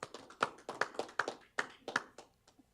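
Scattered hand clapping at a council meeting, a light, uneven patter of a few people applauding for about three seconds, fading toward the end with no talk over it.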